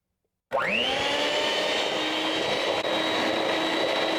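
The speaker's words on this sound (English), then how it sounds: "I have a stick of butter or half a cup of butter that I'm going to beat up" Electric hand mixer beating a stick of butter for a papaya cake: a sharp whirring motor that switches on abruptly, quickly rises to speed and then runs loud and steady close by, with no voices.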